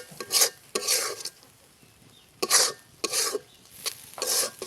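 Peanuts stirred in a pan over medium heat, heard as separate bursts of scraping and rattling, each lasting about half a second and coming close together. Quiet gaps fall between the bursts, and no one speaks.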